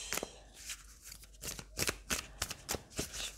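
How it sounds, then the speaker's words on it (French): Oracle cards being shuffled by hand for a daily reading, a run of soft riffling flutters and papery slaps in quick uneven bursts, close and fairly quiet with no talking. "je prends le temps de bien mélanger les cartes"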